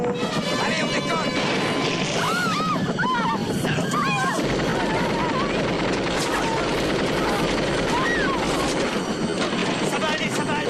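A helicopter lifting off in a 1988 war film scene, loud continuous rotor and engine roar throughout, with shouting voices and crashing sounds over it.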